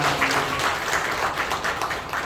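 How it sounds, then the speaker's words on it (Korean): A church congregation applauds after a Christmas infant baptism, producing a continuous, even patter of many hands clapping at moderate loudness for the whole stretch. "우리 박수로 먼저 축하드립니다"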